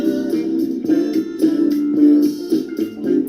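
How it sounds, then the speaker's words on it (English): The Grateful Dead's 1978 disco-flavoured song Shakedown Street plays continuously with a pulsing, rhythmic band groove, fairly loud and steady throughout this short stretch with no talking. "The song is Shakedown Street from the album Shakedown Street."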